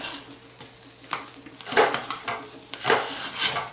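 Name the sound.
scraping the edges of a crockpot of soap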